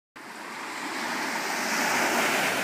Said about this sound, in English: Okay, here are the waves.